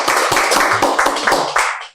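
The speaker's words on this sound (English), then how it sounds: "let's give him a round of applause" A small audience claps at the Blue Economy TV launch event, a close, loud patter of individual hands that runs steadily and then stops abruptly near the end.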